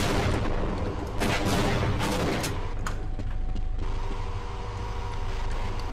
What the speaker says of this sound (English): now the tank is still a threat